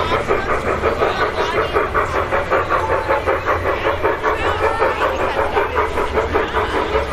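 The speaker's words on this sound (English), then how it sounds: "Got a steamer with a single car running by on these wooden trestles" A small steam locomotive pulling a single car chuffs over wooden trestles, with rapid, even puffs and clatter, loud and close throughout, a voice briefly over it.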